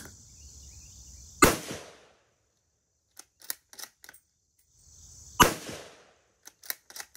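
Two sharp, loud rifle shots from a Ruger American in 7.62x39 firing handloads with 27 grains of Reloader 7, a few seconds apart. Each is followed by faint clicks of the bolt being cycled.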